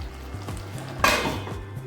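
A metal lid is set onto a cooking pan of chicken do pyaza, landing with one clear clatter over a faint background sizzle and a few light clinks.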